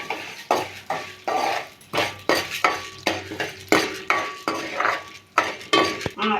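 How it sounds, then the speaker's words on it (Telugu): Urad dal roasting in a little oil in a pan, heard as repeated close stirring scrapes and light metallic clinks over a faint, soft sizzle, no talking. "ఆయిల్ వేసిన తర్వాత కొంచెం మినపప్పు వేపాలి మినపప్పు రోస్ట్గా వేడాలి"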